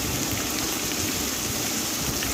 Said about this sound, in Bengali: ভালো করে ভাজবো। আলুটা লাল লাল করে ভেজে নেব।